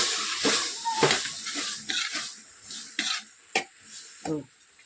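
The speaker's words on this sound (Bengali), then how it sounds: "সবটা আবার নাড়াচাড়া করে দেবো" Ghugni curry stirred in a pan: loud, close spatula scrapes and clinks against the pan in an uneven rhythm over a soft sizzle, with no talking.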